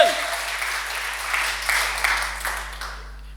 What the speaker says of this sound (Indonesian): kasih tepuk tangan yang paling meriah untuk Tuhan